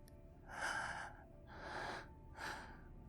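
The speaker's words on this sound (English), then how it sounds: "catching your breath in a shallow gasp" Three soft, breathy gasps in quick succession, close and intimate, each a short airy inhale-exhale with quickened breathing and no talk.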